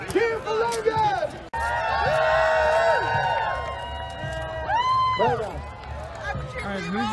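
A crowd at a Renaissance festival cheers and whoops for a jousting champion, with loud overlapping shouts and rising cries from many people and some nearby voices mixed in.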